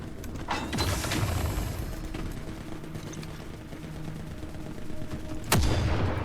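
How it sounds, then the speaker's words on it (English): A sniper rifle in the war shooter game The Forever Winter fires a few sharp, loud cracks against a rumbling battlefield backdrop with mechanical clatter, the last shot landing near the end. "maybe not use the loudest shit sniper rifle"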